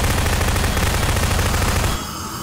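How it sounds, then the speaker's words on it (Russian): A bomb going off in Garry's Mod during a five-player FNAF 1 pizzeria co-op map: a dense, loud, continuous roar of blasts with rapid crackling bursts that cuts off abruptly, leaving a thinner ringing tail. "Она не убьет всех, но она очень классно взрывается."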